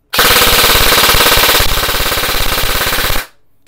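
A G&G MXC9 airsoft rifle fires a single long full-auto burst of about three seconds, loud and close, its rapid rhythmic clatter cutting off abruptly.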